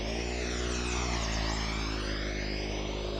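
Simulated RC plane motors in VTOL mode, flaps down, hovering in a pilot-training simulator: a steady, loud buzzing whine with layered harmonics that sweep gently up and down as the motors adjust, with no talk.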